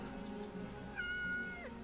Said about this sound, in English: You're a good cat.